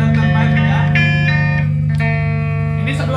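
An electric guitar with a clean tone and no effects plays sustained notes and chords up close, ringing out loud and alone over a steady hum.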